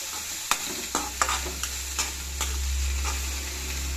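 Finely chopped onions fry in a pan with a steady, close sizzle. Several sharp scrapes from a spoon stirring them break through the sizzle near the start, and the frying then hisses on alone.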